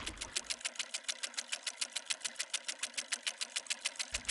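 A motorized spinning duck decoy animator runs during a kayak duck hunt, making a steady fast mechanical ticking whir, evenly pulsed and close, with no voices.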